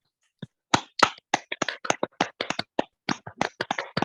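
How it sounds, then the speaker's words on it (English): An online audience claps after a poetry reading, a sparse, uneven patter of separate claps from a few people, some close and some quieter, lasting a few seconds. "if you want to unmute yourselves to clap for Nick"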